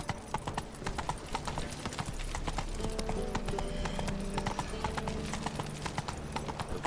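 Roach, the horse in The Witcher 3, trots with sharp, evenly spaced hoofbeats close up. The hooves sound clear and steady throughout, with faint game ambience beneath.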